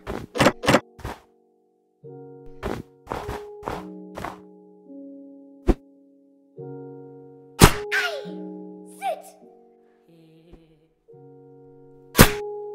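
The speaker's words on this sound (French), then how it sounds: "On fait une bataille de balle de neige" Snowballs smacking targets in a video game snowball fight: a series of sharp, dry thunks and whacks, some in quick bursts, spaced between steady tonal game music, with one louder hit near the end.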